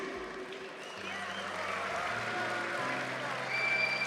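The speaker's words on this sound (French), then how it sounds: "Je vous demande d'applaudir bien fort, s'il vous plaît, l'explosif Younes Benoîli." Audience applause greeting a jiu-jitsu fighter's introduction at a Nova GP CFJJB tournament semi-final, a steady wash of clapping and crowd noise that swells toward the end, with an announcer's amplified voice running underneath.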